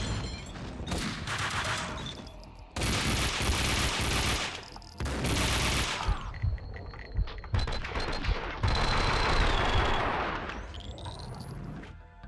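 Gunfire in Max Payne 2, loud bursts of rapid shooting and single shots arriving in dense clusters separated by brief gaps, with ringing metallic tones and heavy impacts throughout.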